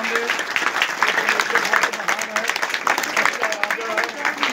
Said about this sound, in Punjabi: ਪਰਮੇਸ਼ੁਰ ਯਹੋਵਾ ਦੇ ਨਾਲ ਤਾੜੀ ਮਾਰਾਂਗੇ।